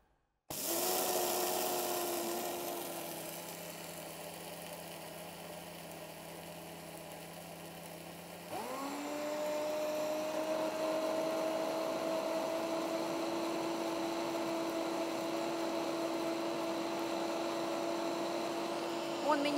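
A King Mix KM Q6A blender runs its program for grains, legumes and dry mixes, a steady loud motor whine that shifts pitch partway through as the mode changes, continuing without talk.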